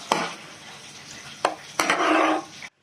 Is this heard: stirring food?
yes